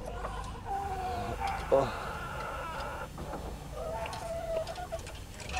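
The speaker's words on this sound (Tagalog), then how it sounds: "So ito naman yung aking inahin." Hen among low-quality Tagalog gamecock chickens, clucking in short bursts close by, with other fowl calls and someone talking over it.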